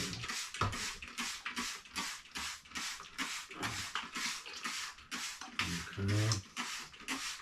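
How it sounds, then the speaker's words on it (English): A handheld spray bottle mists a houseplant with water in a quick, steady series of close, hissing spritzes, and a voice briefly sounds over one of the last bursts. "We're going to give her a good misty."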